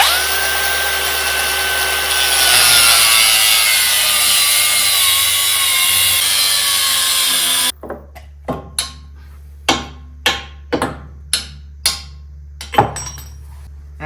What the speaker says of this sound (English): Just got to trim out a little chunk right there and that'll clear that.